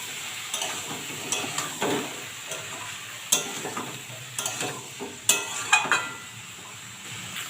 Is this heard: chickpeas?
yes